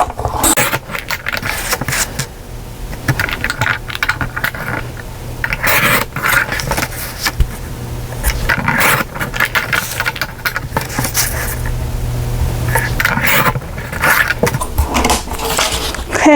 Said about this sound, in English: you push this down and you go through and you punch it. So I'll cut it and spin it